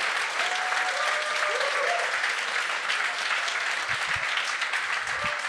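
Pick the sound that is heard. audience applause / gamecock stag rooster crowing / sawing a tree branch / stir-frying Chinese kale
audience applause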